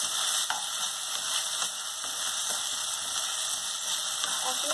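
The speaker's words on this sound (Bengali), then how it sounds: "এবার এই চালটা আমি তেলে দিয়ে দেব।" Rice frying in hot oil in a pan while an egg rice curry is being cooked, a steady, even sizzle with faint scraping ticks throughout and nothing else heard.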